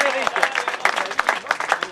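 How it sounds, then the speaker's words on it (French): Crowd applauding the stage winner at a cycling race podium finish, with lively clapping heard under an announcer's voice over a public address. "Mesdames, messieurs, on applaudit très fort le vainqueur de Gans."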